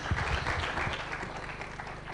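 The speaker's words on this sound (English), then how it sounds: "So, round of applause and some squishy balls." Audience applause at a startup pitch award event, a short burst of dense clapping from a crowd in a room, steady and fairly loud.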